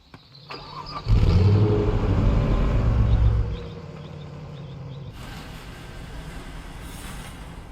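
Engine of the Guardian Police Vehicle in the game Police Simulator: Patrol Officers, starting with a loud low rumble and revving for a couple of seconds, then settling to a steady quieter idle.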